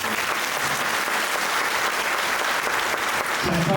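Sustained audience applause fills a hall during a Hindu religious gathering with a swamiji's blessing address, steady and dense throughout, with a brief tonal sound near the end.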